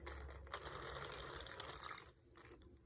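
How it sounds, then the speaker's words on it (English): Water pours in a steady rushing gush into a plastic bag, then tapers off and trickles near the end. "I'm going to pour my water in my bag."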